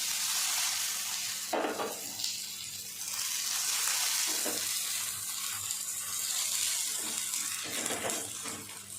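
Dhapate flatbread fries in oil on a pan, with more oil drizzled over the top, making a loud, steady, close hiss that swells in several brief bursts.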